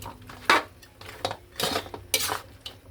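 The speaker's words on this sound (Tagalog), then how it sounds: "At atin ulit siyang halo-haluin para halo yung kulay." Annatto oil stirred in a metal pot for kare-kare, with a utensil scraping and clanking against the sides in several short, irregular bursts, close and fairly loud, with no talking.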